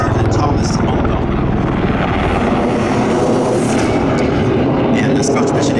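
An HH-60G Pave Hawk helicopter at the California Capital Airshow, its rotor and turbine roaring loud and close in a continuous, dense drone with no break.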